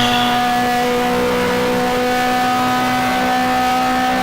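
On-board engine of an E92 BMW GT2 race car at Spa-Francorchamps, a loud, steady high-revving drone with strong tonal harmonics, heard alone.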